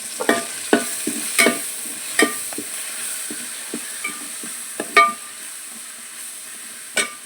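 Curry leaves fry and sizzle in hot oil in a pan for a traditional roasted-coconut chicken curry, with a steady hiss broken by sharp scraping stirs and utensil knocks at irregular intervals, close and alone.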